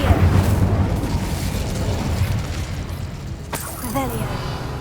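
An Incendio fire spell from Hogwarts Legacy bursts with a dense, roaring fiery rush, then a sharp crackling blast near the end, with a voice briefly heard afterward.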